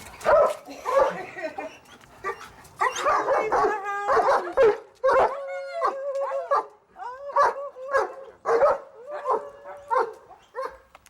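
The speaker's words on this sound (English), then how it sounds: "Silly dogs." Several dogs bark and yip repeatedly up close, with whining between the barks in an excited, uneven rhythm.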